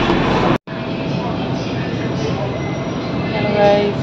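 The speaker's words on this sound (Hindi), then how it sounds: "मैं मेट्रो में जा रही हूँ" A steady broadband rumble and rush fills the inside of a moving metro train, with a brief cut early on and a faint tonal whine rising near the end.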